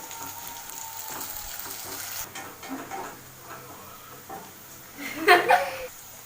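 Chopped onion with curry leaves sautéing in a pan, a low, continuous sizzle with scraping stirs, ending in a louder clatter of utensil against the pan.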